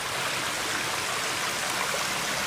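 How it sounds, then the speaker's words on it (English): Water rushes down out of the mountains beside a hiking trail in a continuous, powerful broadband roar, close and steady with no pauses. "you can hear that water coming out of the mountains"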